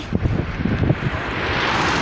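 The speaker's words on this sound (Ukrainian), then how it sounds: "Ай, ой, дуже вітряно, я не знаю." Strong wind buffets the microphone in a continuous, roaring rush, loud and steady throughout, with brief gusty bursts near the start.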